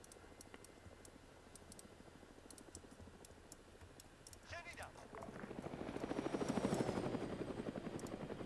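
Helicopter rotor thudding in a steady pulse, swelling louder as it passes close overhead during an outdoor field operation, with scattered clicking sounds early on.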